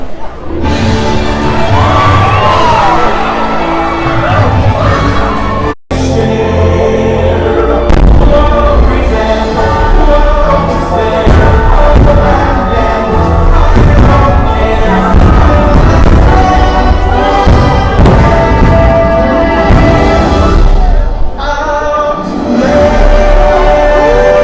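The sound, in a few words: fireworks show exploding at Magic Kingdom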